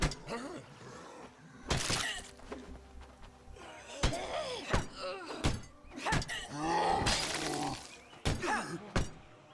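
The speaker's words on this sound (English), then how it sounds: "I'm hearing lots of zombo sounds" Growls and groans from zombies in the game State of Decay mix with sharp crashes and thuds, bursts of harsh noise coming in quick succession.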